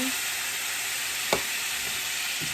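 Cooking wine hits a hot pan for a bistro steak and sizzles loudly and steadily up close, with a brief clatter of a utensil scraping partway through.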